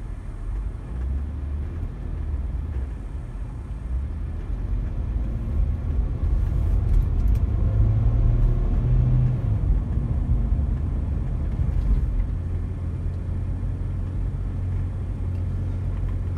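A car drives at low speed through the Pullman university campus past the football stadium, its steady engine and road rumble continuous and close throughout, swelling briefly in the middle, with no talk.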